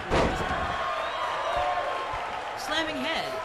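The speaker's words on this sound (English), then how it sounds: "slamming head into ring." A heavy slam opens a WWE 2K19 wrestling match as a head is driven into the ring, followed by crowd noise and cheering, with someone talking over it.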